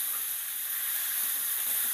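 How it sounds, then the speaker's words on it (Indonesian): Minced pork sizzling as it is stir-fried in a pan, a steady close hiss with no talk over it. "lalu kita masukkan dagingnya ya. Lalu kita tumis nih"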